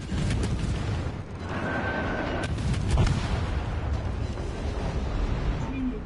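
Warship cannons firing at a destroyer in a naval video game, deep booming blasts and rumbling explosions rolling continuously, loud and close, with mechanical clanks mixed in.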